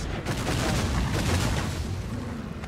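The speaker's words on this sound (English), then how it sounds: "How did that explosion not do anything to me?" Explosion in the video game Dragon's Dogma: Dark Arisen, a loud, dense roaring blast that fills the whole moment and holds steady with rumbling crackle before easing slightly at the end.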